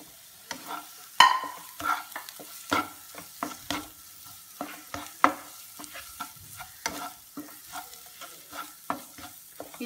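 Chicken masala sautés in a pan, with repeated close spatula scrapes and clanks in an irregular rhythm over a faint sizzle.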